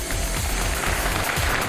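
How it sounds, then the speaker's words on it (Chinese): Studio audience applause on a Chinese relationship-mediation TV show, a dense, steady wash of clapping that holds at an even level throughout, with music underneath. "掌声有请这一对，有请"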